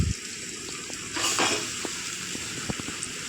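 Chicken sizzles and crackles in a hot pan with a steady broadband hiss, swelling briefly midway, while occasional sharp clinks of a utensil against the pan cut through. No one speaks.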